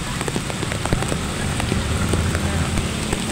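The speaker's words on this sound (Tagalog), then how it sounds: "sobrang lakas ng ulan, sobrang lakas ng hangin" Heavy rain pours and a strong wind gusts in a flooded part of Caloocan, a dense, constant hiss with scattered crackling drops that stays loud and close for the whole stretch.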